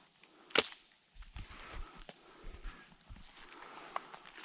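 A single sharp .410 shotgun blast loaded with 7.5 shot, fired outdoors at a 30-yard target, stands out loud and alone near the start, followed by faint rustling and a small click later.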